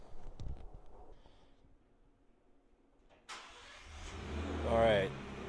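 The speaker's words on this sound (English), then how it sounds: "All right, so now we have the truck on." A 2024 Ford Ranger Raptor pickup's engine cranks and catches after a quiet stretch with light handling noises. It settles into a loud, close idle with a brief rev, and someone speaks around it.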